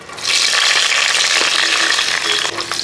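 Cumin, dried red chillies, green chillies and garlic cloves frying in hot oil for a brinjal sambar curry, a loud, dense, continuous sizzle heard up close with no talking.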